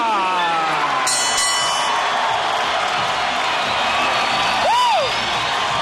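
A boxing arena crowd cheers and whoops loudly as defending NABF welterweight champion Oscar Diaz is introduced, a sustained roar with scattered shouts and a ring announcer's voice ringing out over it.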